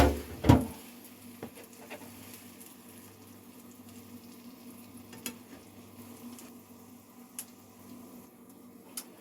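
Imitation crab cake dropped into hot oil in a pan, a loud splash at the start settling into a steady low sizzle with scattered faint ticks and pops throughout.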